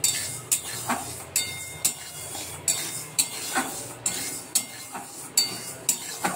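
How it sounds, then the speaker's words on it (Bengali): Moong dal is stirred and dry-roasted in a pot, with a utensil scraping and clinking against the metal in a steady rhythm of about eight strokes, close and clear with no talking. "তাই এবার আমি ডালটাকে নাড়ছি"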